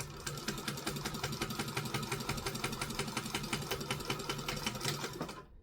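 A sewing machine stitches fabric for a kangaroo sewing project with a rapid, even mechanical chatter that runs steadily and close, then stops abruptly at the end, with no speech.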